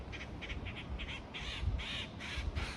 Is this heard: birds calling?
yes